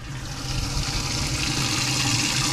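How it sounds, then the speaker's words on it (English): A boat livewell recirculation system pumps soapy water through its lines, a steady close rushing and gurgling of water that grows slightly louder over a couple of seconds. "That's going to take that soapy water and run it through the whole system and clean out the live wells too."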